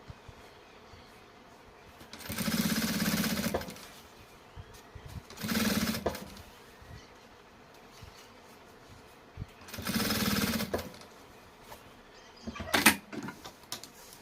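Sewing machine stitching two bag panels together, running in four separate bursts of steady mechanical whirring, the last one short, with quiet pauses and small handling noises between.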